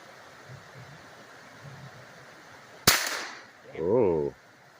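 A single sharp gunshot rings out as the first shot at targets on a shooting range, a loud crack with a brief trailing decay, followed moments later by a short burst of voice.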